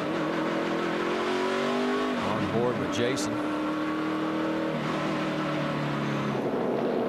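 A NASCAR race car engine at Richmond drones steadily from onboard, its pitch shifting as the car slows, while a commentator talks over it throughout.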